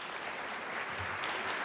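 Audience applause for the candidates at a Braintree mayoral debate, a steady wash of clapping from a crowd that holds evenly throughout.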